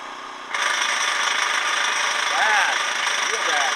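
A homemade mini generator hooked to a small 12-ounce battery runs with a loud, steady high-pitched mechanical whine that kicks in after half a second, with a few brief tonal sweeps partway through.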